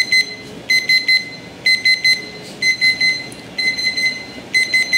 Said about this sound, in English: Alarm is ringing.